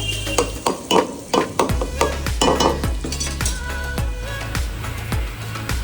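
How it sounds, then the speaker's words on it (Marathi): Onions stir-fried in hot oil for a Malvani prawn masala rice, a loud steady sizzle broken by repeated rhythmic scrapes and clinks of a spatula against the pan, with no talking. "तर मग राईससाठी आधी कांदा आपण थोडा परतवून घेऊ"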